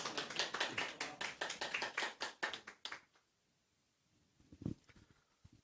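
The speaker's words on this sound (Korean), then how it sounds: "박수." An audience claps at a church testimony gathering, a brisk burst of hand claps lasting about three seconds that then drops away to near silence with one soft thump.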